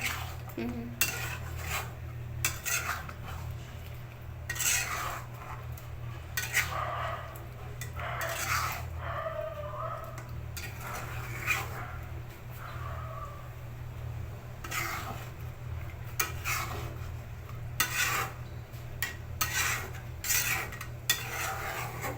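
Spoon scraping and clinking against a pot as korma is stirred, irregular metallic knocks over a low steady hum, fairly close, with faint background noise and no clear talk.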